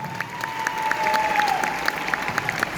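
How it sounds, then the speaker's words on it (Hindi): Audience applause fills Talkatora Stadium as a dense, steady patter of many hands clapping, with a thin sustained tone running through it. "एक बार जोरदार ताली होना चाहिए"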